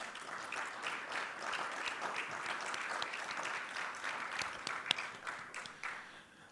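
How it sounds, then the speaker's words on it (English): Audience applause at a CARICOM Resilience Fund launch event, a steady broadband patter of many hands clapping at moderate distance, sustained throughout and tapering slightly at the end, with no voices over it. "So I want to really applaud Rod and his team."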